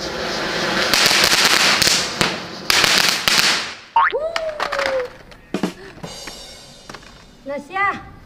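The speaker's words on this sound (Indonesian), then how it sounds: "Nyalakan kembang api." Fireworks crackle and hiss in a dense burst, then a rising whistle and scattered pops and bangs, with excited voices in between.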